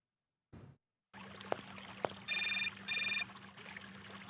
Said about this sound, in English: now we go outside, and there's going to be a phone call